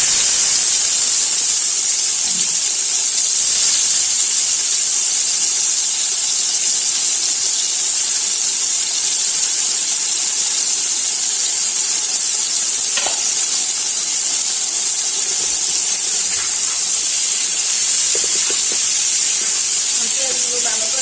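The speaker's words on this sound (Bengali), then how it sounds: "এখন পেঁয়াজগুলো দিয়ে দিচ্ছি" Onions fry in a pan with a loud, continuous hissing sizzle that holds steady throughout. They are added to a pan where river poa fish has already been fried in turmeric and chili. A few faint clinks and scrapes sit under the hiss.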